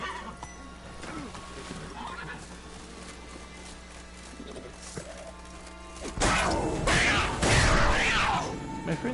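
A horse in The Witcher 3 gives a neigh and hoof clatter while galloping, the hooves and thuds growing louder and busier in the final few seconds, with a game voice briefly heard.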